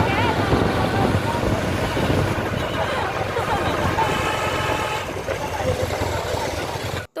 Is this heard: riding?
yes